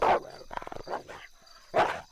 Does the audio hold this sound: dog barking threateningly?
yes